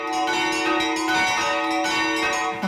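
Church bells ringing in Lviv in the local bell-ringing tradition, loud and close, with rich sustained overlapping tones and repeated strikes swelling throughout, no talking.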